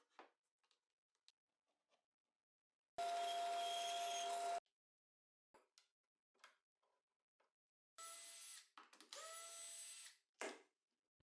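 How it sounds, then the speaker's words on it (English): A power drill drilling holes in plywood whines in two separate bursts, the second longer and broken into pulses, with scattered light taps and knocks in between. "I mark each of their positions and drill new holes"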